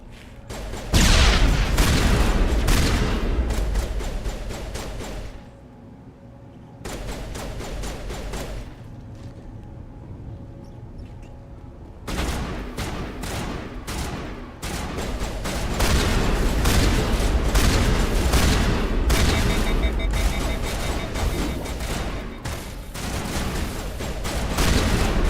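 Bursts of rapid gunfire and heavy explosions from grenades in the Mass Effect 1 video game, thick stretches of shooting broken by a few brief lulls and then resuming.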